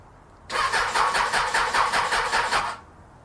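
Suzuki Bandit 600 motorcycle engine cranking over on the starter with the choke on and no fuel in the carburetors, a loud, steady, rapid rhythmic churning burst of about two seconds that does not catch.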